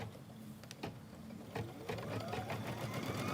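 An embroidery machine stitches a quilting design for a mystery wallflower quilt block in a 6 by 10 hoop, giving a steady, quiet mechanical whirring hum with light rhythmic needle clicks, heard alone.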